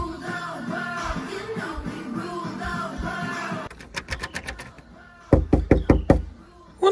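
A fist raps on a locked house door in several quick bursts of loud knocks, spaced by short pauses, after a stretch of muffled background noise.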